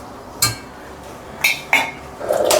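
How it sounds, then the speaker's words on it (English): A whisk scrapes through chicken stock made from a bouillon cube, with cheese to follow, in a pan. Three or four brief metallic clinks sound close by over quiet, with a soft stirring swish at the end. "If you leave it unattended, it gets burnt, so make sure you're constantly whisking"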